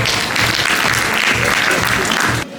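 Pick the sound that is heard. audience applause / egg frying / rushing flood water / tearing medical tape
audience applause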